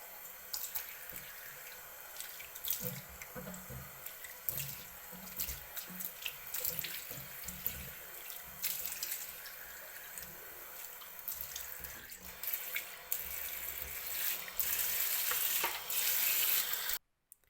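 Running tap water splashes over a freshly descaled faucet as it is rinsed clean, a steady close hiss of water with small clatters and shifts in the stream, fading out at the end.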